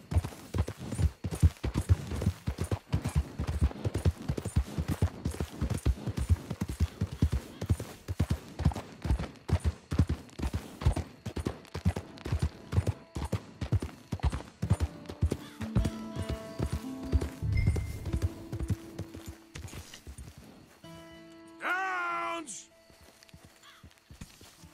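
Horse hooves gallop in Red Dead Redemption 2: a dense, rapid clip-clop that is loud and close, keeping a steady pounding rhythm before fading out near the end as music and tones take over.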